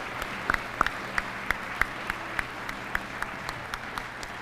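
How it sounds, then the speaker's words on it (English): Clapping at a Chesapeake fire department awards ceremony comes as sparse, evenly spaced claps, fairly faint over a quiet room hum, with a few louder claps standing out near the start. "please join me in a round of applause for our Awards and Recognition Committee"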